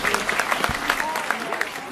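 A crowd applauds and cheers in a town during a marriage proposal in a ghost-town adventure game, a dense wash of clapping and shouts with some talking mixed in.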